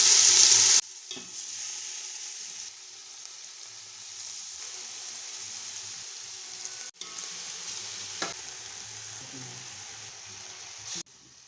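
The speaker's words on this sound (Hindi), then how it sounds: "गाजरों को हम फ्राई कर लेंगे।" Grated carrots fry in ghee for gajar halwa, a steady, close sizzle throughout with a spoon scraping and stirring through the pan, loudest at the very start.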